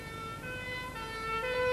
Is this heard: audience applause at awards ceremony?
no